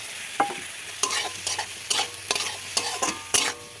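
Vegetables sizzle in a hot pan while a utensil stirs and scrapes in repeated bursts, close and fairly loud, with no talking.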